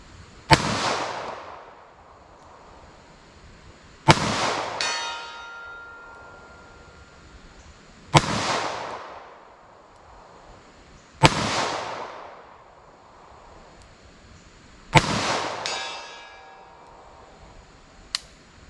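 Snub nose revolver shots fired at a target 100 yards away, five sharp cracks spaced several seconds apart, each trailing off in a long outdoor echo, with no talking.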